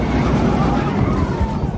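Strong wind buffets a microphone outdoors at an amusement park, a loud continuous low roar that fills the whole moment.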